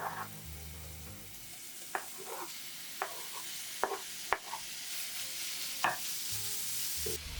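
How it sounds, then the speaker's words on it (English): Pork belly and grated garlic sizzle in a little cooking oil in a pan, a soft continuous frying hiss broken by several sharp taps and stirring clacks, with no voices. "let the pork sizzle until you see clear fat gathering around the edges"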